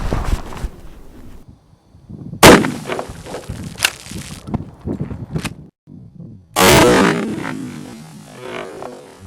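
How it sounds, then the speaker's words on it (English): A Benelli Nova 12 gauge shotgun fires slugs outdoors: two loud, sharp blasts a few seconds apart, each followed by a ringing decay, with quieter handling clicks and rustling between them. "I'm going to shoot it with the slug, and if I miss it, then I'll shoot it with the buckshot"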